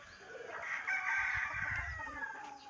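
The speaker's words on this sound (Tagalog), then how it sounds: "Puro pa mga tandang pa sila guys." Several roosters crowing in a backyard flock, long drawn-out calls overlapping one another at close range, loud and continuous with some clucking underneath and no talking.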